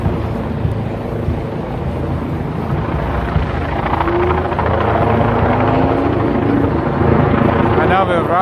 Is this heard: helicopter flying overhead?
yes